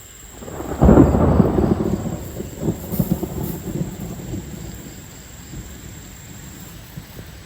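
A thunder rumble rolls in close and loud during a light rain storm, peaking early then fading into a long low grumble over soft patter of rain, with no talking.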